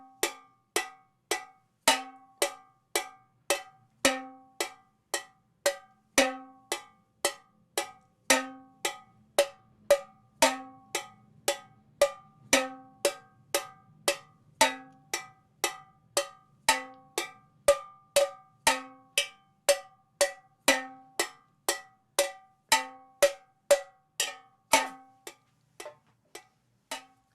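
Metal tin struck in a steady four-beat pattern, evenly spaced bright clanking hits repeating for the whole stretch, the first beat of each group accented, with a faint hum of background music under the taps.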